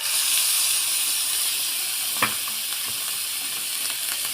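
Onion paste sizzles and hisses steadily in hot oil in a pan, with black cumin, as the base for a Bengali hilsa fish curry; a continuous close frying sizzle with a brief clink partway through.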